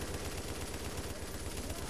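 Sustained light machine gun fire in The Division shooter game, a dense, rapid stream of shots held steadily for the whole moment, fairly quiet and without speech.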